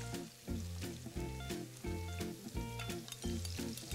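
Shallots, mustard seed, garlic and ginger sizzle in hot grapeseed oil with a soft, constant crackle, while a low tonal background with a repeating pulse plays underneath.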